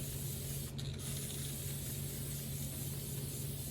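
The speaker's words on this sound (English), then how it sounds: "I'm going to give it a little bit of a spray" Clear floral sealant hisses from an aerosol can onto a round bridal bouquet in one continuous, close spray lasting a few seconds, with a brief dip near the start.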